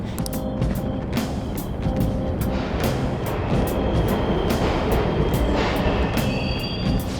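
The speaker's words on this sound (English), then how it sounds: "The trains are totally running!" Trains running inside a palace in the video game Persona 5 Royal: a loud, steady rumble of rolling rail cars with repeated clacking and faint metallic squeals throughout, no voices.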